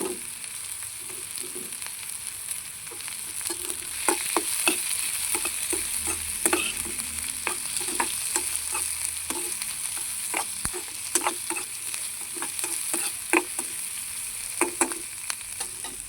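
Onions and green chillies sauté in a pan with a steady sizzle, broken throughout by the frequent scrape and clatter of a stirring spoon. The sound is close and moderately loud, and no one speaks.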